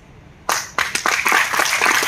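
Applause breaks out in an auditorium crowd at a startup session, a few sharp claps first, then quickly building into dense, close clapping.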